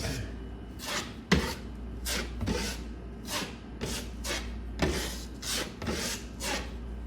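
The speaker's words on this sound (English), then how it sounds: "I'm just going to put a little compound around the edges and start blending it in a little bit" Drywall compound spread and blended around the edges of a wall patch with a knife, giving repeated scraping strokes in an uneven rhythm, close and moderately loud, with no talking.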